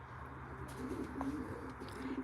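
Racing pigeons coo softly inside their loft, a low murmuring chorus of several birds layered over quiet room ambience, fairly faint and continuous.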